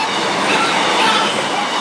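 A Class 156 diesel unit bound for Sleaford rumbles steadily over Rowston North level crossing, close and loud, with a continuous roar of wheels on rail and faint rhythmic clatter throughout, no voices.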